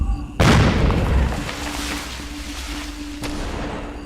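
A loud artillery explosion booms in the Kokoda VR war game, a sharp blast followed by a long rumbling roar that fades, with a second thud near the end.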